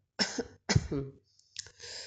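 A man chokes on a mouthful of food and coughs loudly, with two or three sharp, close coughs separated by short pauses.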